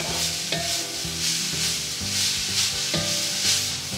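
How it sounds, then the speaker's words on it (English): Vegetables for chili garlic Hakka noodles sautéing in a hot pan, a continuous loud sizzle broken by regular stirring scrapes about every half second, close up with no voices. "we're going to saute it just for about a minute or two because we want the veggies to remain a little crisp"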